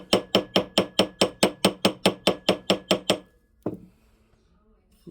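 A hammer taps steadily, about fifteen quick, even metallic strikes in a row, then a pause and one last tap, close by.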